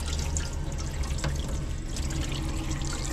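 Water runs steadily from the sink tap of a Caravelair Sublim 510 caravan, a continuous close splashing stream over a low background hum, with no voices.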